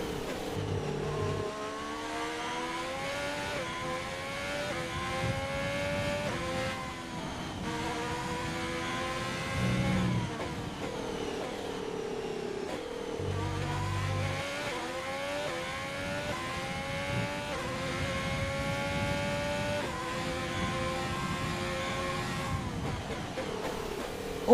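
A race car engine in the F1 video game at the Bahrain GP sings through a lap, its pitch climbing in long revving sweeps and dropping briefly at gear changes or braking, moderately loud and unbroken, with no talk.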